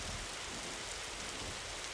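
Steady rain hisses throughout a text adventure video game scene, a continuous even wash of falling water with no voices over it.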